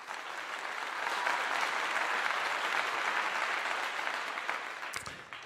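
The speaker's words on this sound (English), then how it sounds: "Let's give him kudos and give him respect and a clap for that." Sustained audience applause, even and full-bodied, swelling slightly then fading toward the end before an abrupt cut.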